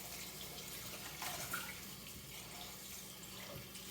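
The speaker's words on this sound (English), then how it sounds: "Let me get another rinse." Faint running water from a tap splashes steadily while a butchered turkey is rinsed clean inside, a soft continuous hiss with no voices.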